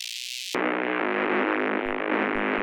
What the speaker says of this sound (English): what this is doing is it's multi-band distortion